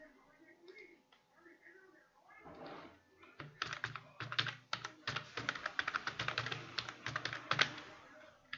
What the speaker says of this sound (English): I will just